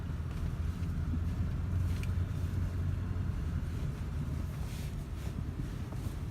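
A Ford Excursion with a 7.3 diesel drives in cold weather, its low engine and road rumble steady and close throughout, with faint wind noise and no talking.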